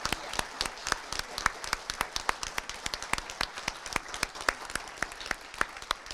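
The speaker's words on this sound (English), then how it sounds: "So if we could give Paige a round of applause" Audience at an awards ceremony clapping steadily, a moderate, fairly even round of applause from a modest crowd with distinct individual claps, no speech over it.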